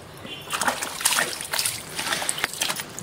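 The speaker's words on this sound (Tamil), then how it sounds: "டெய்ஸியும் பார்த்தீங்கன்னா நல்லா பிடிக்கும், தண்ணி ஊற்றுறதுக்கு ரொம்ப பிடிக்கும் அவனுக்கும்." Water splashes and sloshes in uneven bursts as it is poured over a pet dog during a bath, close and fairly loud.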